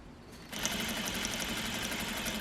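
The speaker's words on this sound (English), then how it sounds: "I'm sewing at a 1/16 of an inch on the pocket, and it's holding the pocket and all of this seam allowance together" A sewing machine stitching fabric close by, understitching a pocket seam about a sixteenth of an inch from the edge, starting up after a brief pause and running with a steady, rapid mechanical whir and needle patter.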